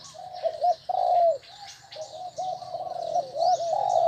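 Zebra doves (peaceful doves) in a mountain-strain training cage calling repeatedly, with close, steady rolling coos and bursts of high chirps from more birds, loud and continuous with no talking.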